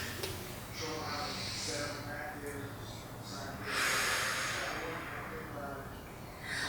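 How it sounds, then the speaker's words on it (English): Slow, deep breaths during a stretch that reaches through the inner thigh and groin, with soft airy inhales and exhales close by and faint breathy noise between them. "3 breaths here."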